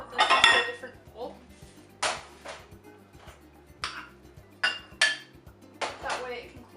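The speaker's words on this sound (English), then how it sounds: "I'm gonna go ahead and put this into a different bowl." Churro dough being scraped and moved into a different bowl, with repeated clinks and scrapes of a utensil against the bowl in short bursts, close and moderately loud over a low steady hum.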